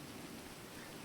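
Rain falls steadily in the NoPixel roleplay game world, a soft even wash of dense patter throughout, faint and uninterrupted with no voices.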